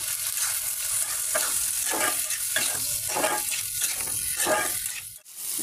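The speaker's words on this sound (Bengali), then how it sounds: "মশলাটা কষানো হয়ে গেছে, অনেকক্ষণ ধরে কষাচ্ছি।" Spice paste fries in a pan for a chickpea dish while being stirred, a continuous close sizzle broken by a run of rhythmic scraping strokes, with no talking.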